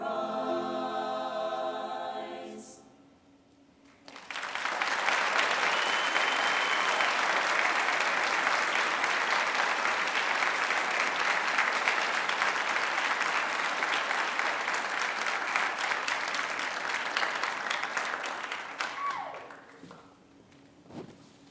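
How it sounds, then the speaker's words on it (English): Sustained applause for senior choir members at a high school baccalaureate, beginning as singing ends, a broad roomful of clapping holding steady for about fifteen seconds before fading out. "Can we have one more round of applause for our senior choir members?"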